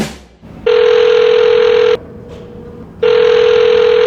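A telephone call rings out before an automated voicemail picks up: two long, loud, steady electronic ring tones, each about a second and a half, separated by a short quiet gap, close and alone.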